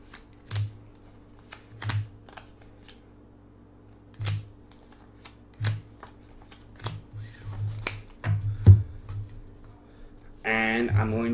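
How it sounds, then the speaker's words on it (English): Playing cards for the Love Formula tabletop card game are dealt one at a time, each landing with a soft, crisp snap at irregular intervals, before a voice starts talking at the end. "I'm going to deal out those 12 cards"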